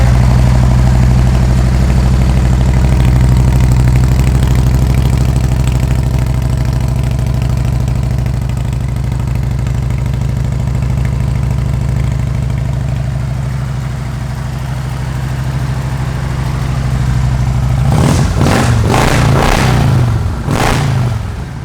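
A fuel-injected 1998 Harley-Davidson Electra Glide engine runs at a loud, steady, throbbing idle close by, then gets several quick blips of the throttle near the end, with no talking over it.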